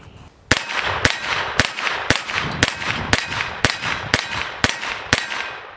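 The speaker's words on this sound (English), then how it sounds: "These magazines too are very easy to load." 9mm rounds are pushed one by one into a Kalashnikov KP9 magazine, producing about ten sharp metallic clicks at an even, roughly half-second rhythm, loud and close, with nothing else behind them.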